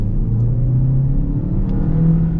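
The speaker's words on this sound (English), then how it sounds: "this engine's got some torque" A 2026 Chevy Equinox AWD four-cylinder pulls hard under acceleration, a steady loud low engine drone rising slightly in pitch throughout with road rumble beneath.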